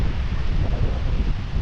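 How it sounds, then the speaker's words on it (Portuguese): Strong wind on a cloudy day during a motorcycle trip buffets the microphone in loud, uneven gusts and rumbles, with no talk. "Bastante vento, mas ele tá nublado."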